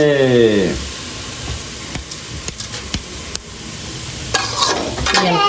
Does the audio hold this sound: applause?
no